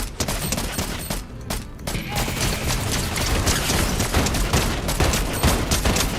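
Dense, continuous gunfire fills a Fortnite Battle Royale fight, with rapid overlapping shots and impacts as players land headshots, loud and relentless throughout.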